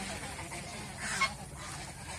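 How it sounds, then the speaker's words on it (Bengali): A flock of ducks on a swan and duck farm calls in a low steady chorus, with one brief louder honk rising near the middle against constant background murmur. "এই যে দলবদ্ধ অবস্থায় থাকে। একটা হাঁস যেদিকে যাবে"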